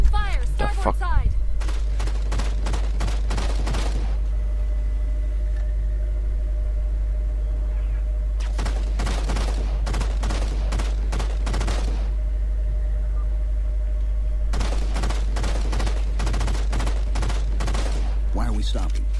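Rapid gunfire in the Halo 4 video game arrives in three dense volleys of overlapping shots, separated by short lulls filled with a steady low hum.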